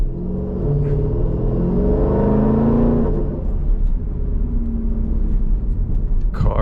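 Jeep SRT driving in sport mode through city traffic, its engine a steady low rumble with a rising rev around the middle, then settling into a continuous cabin drone.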